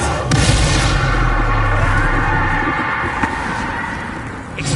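Repeated Confringo fire-spell blasts in the video game Hogwarts Legacy, a loud, continuous barrage of deep booms and crackling impacts with a few sharper bangs, no talking.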